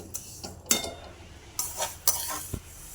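Rice grains dry-roasted in a pan for chakli bhajani, stirred with a spoon. Scattered scraping strokes and soft rustles with a few sharper clinks, close and fairly quiet, with no talk.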